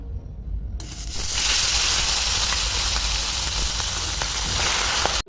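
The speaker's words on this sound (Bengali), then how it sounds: "কড়াইতে তেল গরম হয়ে গেছে, মাছগুলো একটু ভেজে নেব, হালকা ভাজবো" Loud, steady sizzling and hissing of fish frying in hot oil in a wok, starting abruptly after a quiet moment and continuing with occasional crackles.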